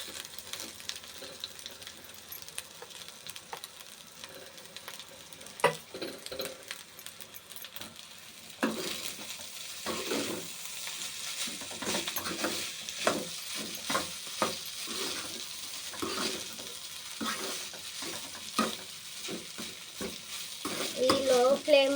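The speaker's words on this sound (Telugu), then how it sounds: "ఈ లో ఫ్లేమ్ మీదే ఒక్క 2-3 మినిట్స్ వేగాలండి రైస్." Rice tossed with garlic chili powder fries on a low flame in a pan, making a soft continuous sizzle with frequent scraping stirs that turn louder and denser after the first few seconds.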